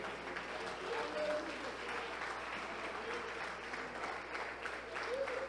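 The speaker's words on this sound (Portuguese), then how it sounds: "Vamos aplaudir ao Senhor," Church congregation at an evening worship service clapping steadily in praise, a dense continuous wash of applause from a crowd, moderately distant and reverberant, with voices calling out underneath.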